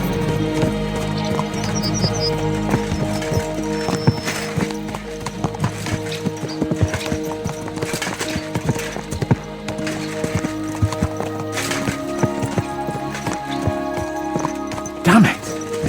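Horse hooves galloping in the Kingdom Come Deliverance II video game, a rapid, steady clip-clop running throughout over a musical score, with a brief snort or whinny near the end.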